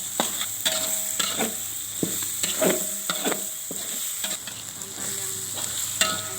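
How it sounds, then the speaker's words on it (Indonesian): Palm sugar and white sugar frying in a pan with bay leaves, a continuous sizzle broken by repeated scraping stirs in an uneven rhythm, close and clear with no talk. "Gula merah dan gula putih itu digoreng aja."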